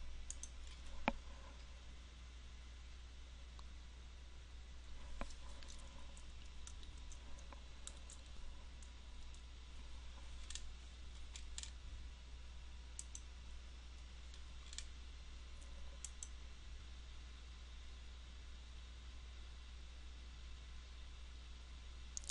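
Computer mouse clicking on a desk, sparse soft clicks scattered irregularly over a faint steady hum, with no voices.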